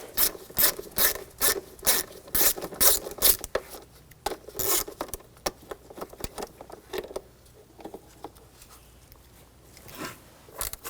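A socket wrench with a 10mm socket loosens the cover bolts on a 2000–2006 BMW X5 3.0L inline-six engine. Quick bursts of close ratcheting clicks come first, then slower, fainter clicks and rubbing.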